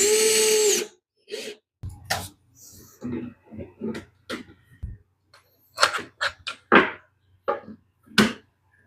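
A power drill drives screws into a desk for mounting brackets, in short separate bursts with pauses in between, some near and loud, others brief and fainter.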